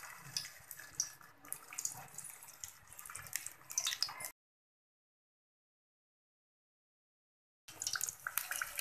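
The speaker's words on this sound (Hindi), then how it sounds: "इसको मैंने शैलो फ्राई करना है, डीप फ्राई नहीं करना" Kachoris made with leftover dal shallow-fry in hot oil in a wok, giving a faint, soft, steady crackling sizzle that drops out into a few seconds of silence before returning.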